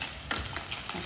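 Andhra-style mutton fry sizzling as it is poured into a pan of frying onions, a brief close hiss with a few sharp crackles and spatters.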